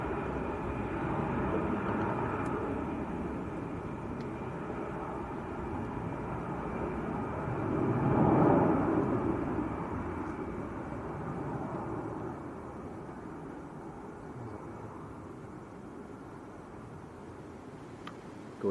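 An ITA Airways airliner passing at Manchester Airport, a broad steady jet roar that swells to a peak midway and slowly fades, heard from a distance with no talk.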